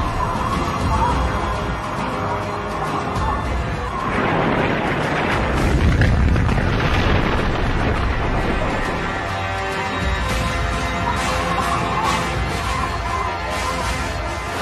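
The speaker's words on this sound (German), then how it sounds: "Sie explodieren bereits in großer Höhe, können dennoch beachtlichen Schaden anrichten." A meteor explodes high in the atmosphere as a sound effect: a sustained rumbling roar swells into a deep, booming burst around the middle before easing back into a lingering low rumble.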